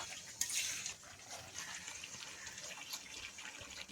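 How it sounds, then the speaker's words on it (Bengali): Water is poured into a pot of chicken and potatoes for Kalbat chicken curry, a faint, steady splashing gush that runs for a few seconds. "আলুর সঙ্গে কষিয়ে নিয়েছি এবারে আমি জল দেবো"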